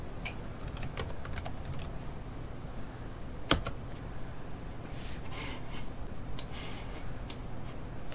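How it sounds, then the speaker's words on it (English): Keys clatter on a computer keyboard as a command is typed, a steady run of quick close clicks with one sharper tap in the middle, no voices. "Using the command line, I'm going to type in the word recover."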